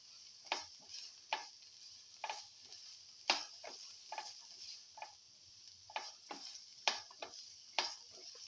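Onions sauté in a pan until golden brown, with a soft, quiet sizzle under repeated scraping strokes as they are stirred at an even, unhurried pace.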